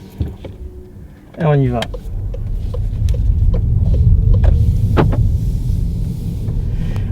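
A 2017 VW Golf GTE plug-in hybrid pulling away in electric mode, a low steady interior hum and rumble that swells and holds, with a brief spoken phrase near the start.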